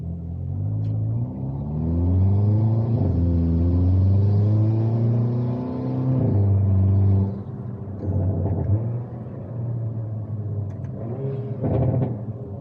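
Hyundai Kona N with an aftermarket downpipe exhaust accelerating hard, a deep rumbling engine tone climbing through gears with rising pitch and brief drops at each shift, heard from inside the car.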